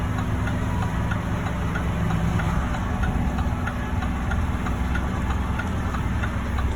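A vehicle engine in super low gear drones steadily while driving down a hill through tornado-damaged woods near Chattanooga, a loud, continuous low rumble with faint knocking and no talking.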